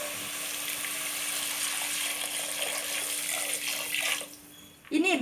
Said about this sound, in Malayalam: നമ്മൾക്ക് ഇതിലേക്ക് വെള്ളം ഒഴിച്ചു കൊടുക്കാം.